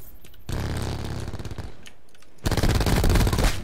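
Rapid automatic gunfire rattles in bursts in a first-person shooter video game: one loud sustained burst, a brief lull, then a heavier, louder volley, all close with no talk.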